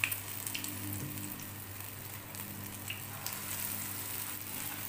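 Urad dal vadas fry in hot oil with a soft, steady sizzle, quiet and even, with no talking.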